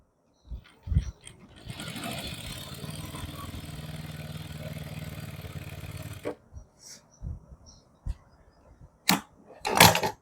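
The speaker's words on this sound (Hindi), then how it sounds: "यहाँ पे हमें इन तीनों पट्टियों को जोड़ लेना है, बिल्कुल बराबर सिलाई लगा के" A sewing machine stitches three fabric strips together to lengthen a kurti, running in one steady, close mechanical whir for several seconds, followed by scattered clicks and handling noises.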